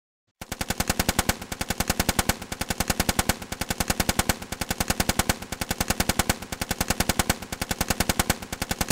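A mech's animated weapons test fires a long, loud, unbroken machine-gun burst with a steady, very rapid rhythm of shots, close and isolated with no voices.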